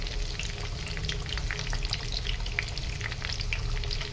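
Homemade hair oil heating in a pan over a low flame, giving a continuous dense crackling sizzle with fine bubbling pops throughout and no voices.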